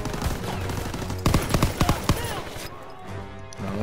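Gunfire in Call of Duty WW2: a rapid burst of loud, sharp shots in the middle, set against constant dense game battle noise, which thins toward the end.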